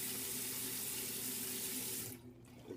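Water runs steadily from a tap into a sink while shaving lather is prepared, a loud, even hiss of flow that stops abruptly near the end, leaving a quiet room.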